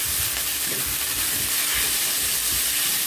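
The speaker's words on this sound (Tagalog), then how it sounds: "Dapat prituin mo na yung ano sayote kasi matigas kasi yan." Chayote sizzles and fries in a pan for an omelette, a steady loud hiss with soft scraping stirs underneath, close and continuous, no voices.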